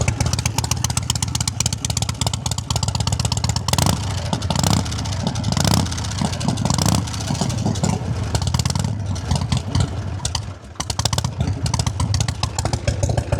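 A 1977 Harley-Davidson FLH Electra Glide with a 1200cc Shovelhead engine runs loud and close, its rough, lumpy exhaust note swelling and falling with throttle blips and a brief dip near the end, with no talking over it.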